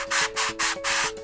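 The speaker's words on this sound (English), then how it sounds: "I'm going to start by lightly sanding" Four close, even strokes of sandpaper lightly rubbing back and forth over a model rocket, raspy and fairly loud, with brief pauses between strokes.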